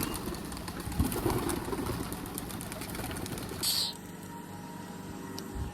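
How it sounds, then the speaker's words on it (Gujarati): Pigeons take off together in a burst of fluttering wingbeats, with a low mechanical hum underneath and a sudden quieter stretch once the flock has gone. "ફાઇનલી હે ને બધા કબૂતર ઉડી ગયા છે"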